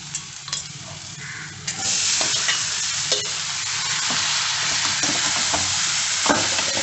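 Soaked cowpeas (karamani) tipped into a hot tempering with curry leaves and stirred in a pan, giving a steady loud sizzle with scraping spoon strokes and clatter throughout.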